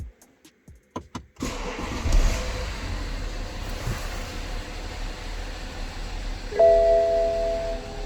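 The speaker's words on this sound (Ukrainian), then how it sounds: "двигун працює" A BMW F10 with an N57N diesel engine and about 356,000 km cranks over in a few short bursts, catches and settles into a steady idle, with a chime sounding near the end.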